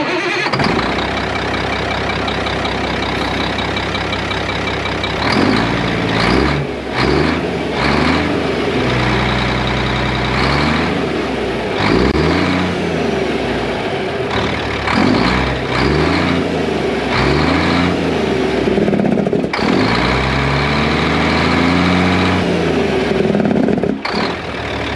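A truck engine with its muffler deleted cranks, fires and settles into a loud, throaty idle, with rhythmic pulsing and repeated blips of revving close by throughout, no talking.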